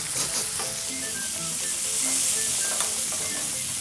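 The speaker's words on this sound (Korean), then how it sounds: "달짝지근한 기름에 간장이 튀겨지는 소리" Soy sauce sizzles and fries in sweetened oil in a pan while cooking a young-radish and pork doenjang rice bowl, a continuous crackling hiss with scattered pops, close and steady, no talking.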